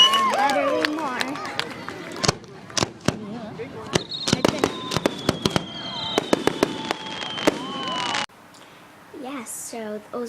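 Loud fireworks bang in a quick irregular volley at an RV camping resort, with a whistling rocket and crackles, while a crowd chatters nearby and a voice rises near the end after the bursts stop.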